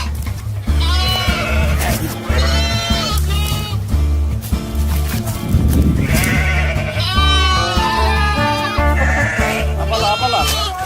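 Sheep bleat repeatedly in wavering, drawn-out cries, several calls overlapping at close range over a steady rhythmic musical backing.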